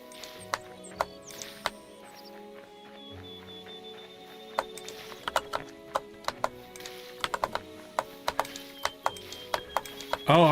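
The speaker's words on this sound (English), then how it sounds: "Oh, are you hearing my keyboard?" Mechanical keyboard keys are typed in irregular bursts of sharp clicks that grow denser toward the end, sounding close against soft game music during a Hytale session.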